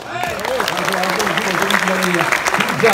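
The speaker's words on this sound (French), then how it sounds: "On les applaudit déjà." An audience at a French festival evening applauds steadily, a dense patter of clapping sustained throughout while a voice carries over it.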